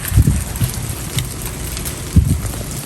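Heavy rain pours in a steady, loud hiss with occasional low thumps of drops hitting nearby surfaces, and no voices break through.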